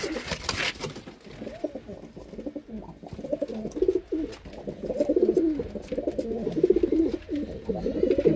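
Punjabi pigeons in a breeding setup give repeated low, throaty coos close by, overlapping and building through the stretch after an initial flutter of noise.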